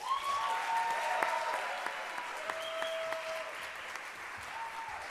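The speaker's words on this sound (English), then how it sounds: "We'll have one more round of applause for these folks as they exit" A crowd applauding steadily for several seconds at a music school convocation, a dense patter of clapping heard from within the room.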